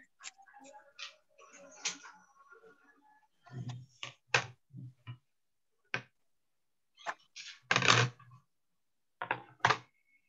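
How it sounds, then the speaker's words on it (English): Cardstock in an embossing folder cranked through a die-cutting machine, giving close, irregular bursts of clicks, creaks and grinding rattles separated by short pauses. "Close up your embossing folder and run it through your die machine."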